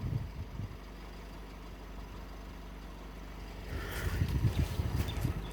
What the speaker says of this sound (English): Turn the motor off.